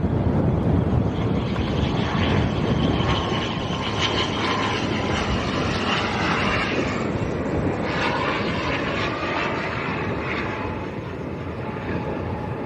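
A Binter airliner coming in to land at Lanzarote Airport in strong wind, its engines giving a steady, loud jet roar that holds for over twelve seconds, mixed with gusty wind buffeting the microphone.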